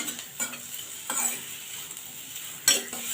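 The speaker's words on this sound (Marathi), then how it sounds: "उभा असा कांदा थोडा हलका मऊ होईपर्यंत परतून घेऊया" Sliced onion sautés in a pan, a soft steady sizzle broken by a few sharp scrapes and clinks of a spatula stirring against the metal, close and quiet with no talking.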